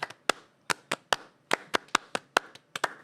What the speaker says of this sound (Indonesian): Kita sebelum mulai kita tepuk pramuka.